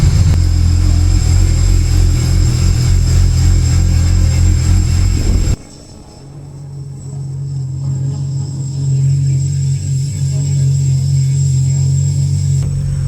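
A car engine droning loudly while driving, heard from inside as a heavy steady rumble that shifts abruptly to a lower, quieter hum partway through.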